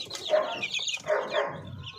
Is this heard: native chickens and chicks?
yes